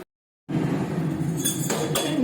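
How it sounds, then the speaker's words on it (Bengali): A metal lid clinks down over a pot of bottle gourd cooking with prawns, with a couple of bright clanks over steady kitchen background noise after a moment of silence. "এটা আমি একটু চাপা দিয়ে কিছুক্ষণ হতে দেব"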